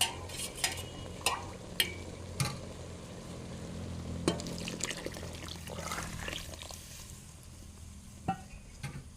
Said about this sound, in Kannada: ಈಗ ನಾನು ಇದಕ್ಕೆ ಮಸಾಲವನ್ನು ಹಾಕ್ತೇನೆ